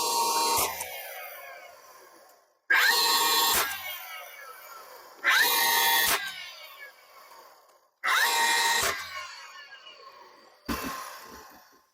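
Power tool driving fasteners through the axles of a wooden toy Ford Model A car, four loud bursts each a couple of seconds long, separated by short silences, then a final shorter burst.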